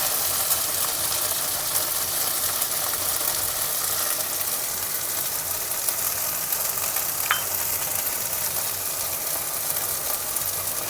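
Whisked yogurt with a little sugar hits hot oil and masala for yogurt prawns, setting off a loud, steady, close frying hiss that barely changes throughout. A single brief click breaks it partway through, and no one speaks.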